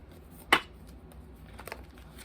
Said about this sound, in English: I have a hard time shuffling this deck